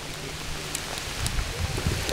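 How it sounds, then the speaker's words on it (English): Steady rain patters and hisses beside a river, with scattered drops ticking close by and a low rumble underneath. "It's raining out right now, so my camera may shut off"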